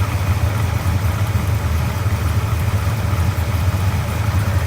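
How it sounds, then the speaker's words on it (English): A homemade Eleanor Mustang replica engine idles steadily and loudly, a continuous low rumble with light valve ticking running through it, with no talk. "The motor sounds pretty healthy. A little bit of valve noise, which I expect."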